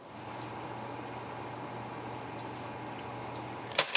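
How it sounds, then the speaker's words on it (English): Soft, steady sizzling hiss of romanesco in a pan, fairly quiet and continuous, ending with a couple of sharp clinks. "we're going to lay our Romanesco down and let the sizzle do its thing."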